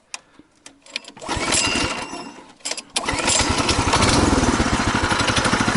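A small tricycle engine sputters and revs, then settles into a loud, rapid, steady running drone close by, with no one talking.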